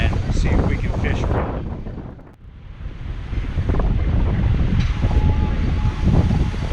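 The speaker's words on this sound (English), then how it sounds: "Sorry for the wind, it's really a windy day." Strong gusts buffeting the microphone on a very windy day at a dammed lake in a park, loud rumbling blasts that dip briefly midway and then return steadily.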